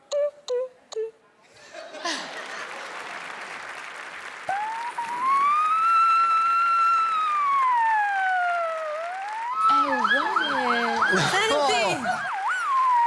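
A fire engine siren on a talent show stage, with a rising and falling wail that sweeps slowly and then breaks into a rapid warbling yelp near the end, preceded by a few short bursts and some faint talk.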